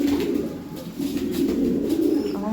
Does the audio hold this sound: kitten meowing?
no